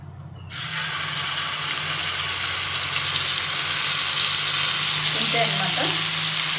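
Ground ginger paste hits a hot tempering of oil and spices, erupting into a loud, steady sizzle after a brief quiet start and crackling on evenly to the end.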